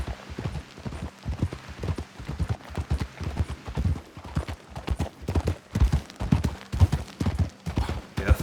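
A horse in Red Dead Redemption 2 trots with loud, close, rhythmic hoofbeats that fall in an even, repeating pattern throughout.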